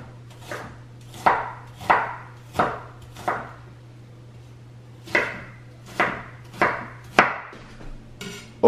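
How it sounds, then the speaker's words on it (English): Knife chopping food into small pieces on a cutting board, with crisp, close knocks landing in two bursts of about four steady strokes each, over a faint constant hum. "And then I'm going to chop them up into small pieces."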